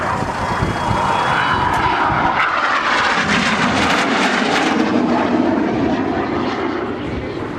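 Display aircraft from the Jippo team flying past at the Southport Airshow, coming in from the right beyond the pier; a loud, steady engine roar sustained throughout, near and continuous with no talk over it.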